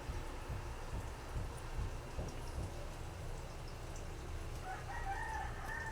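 A rooster crows faintly in the distance near the end, over a constant low rumbling background noise.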